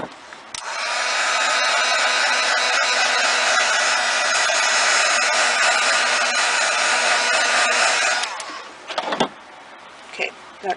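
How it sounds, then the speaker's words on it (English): A heat tool blows steadily at close range for about eight seconds while heat-setting stamped ink, a loud, even whooshing drone that cuts off abruptly, followed by a few handling knocks. "I'm going to take my heat tool."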